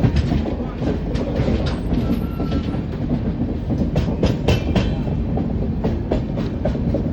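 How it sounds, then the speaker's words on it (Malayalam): A Mumbai suburban train runs near Navade Road station, with a steady loud rumble and rhythmic wheel clatter throughout, no voices. "Suburban train."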